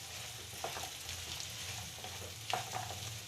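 Green peas dropped into a pan of frying onion and potato for an aloo matar kasuri methi curry, a soft close sizzle with a few stirring clinks and scrapes, no one speaking.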